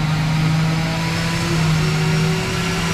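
A Hyundai Kona Electric runs on a wheel dyno fixed to the drive wheels, giving a steady, loud, close whirring hum with faint tonal whine and no gear changes.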